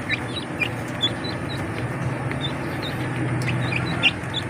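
Broiler chickens in a pen, with scattered short chirps and clucks over a steady low rumble of background noise.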